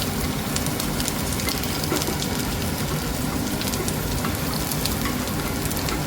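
Green chillies fry in hot oil, a dense, loud, continuous sizzle and crackle that stays steady throughout, close up with no voices.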